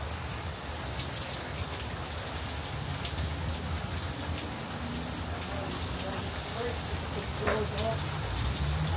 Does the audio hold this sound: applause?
no